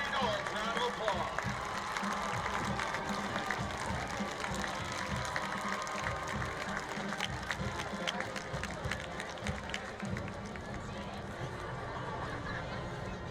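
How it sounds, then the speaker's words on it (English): A crowd at a high school football game between St. Joe Central and Liberty North applauds and cheers steadily for the whole stretch, with dense clapping and chatter filling the stands. "Let's give the entire court one more big Liberty North round of applause."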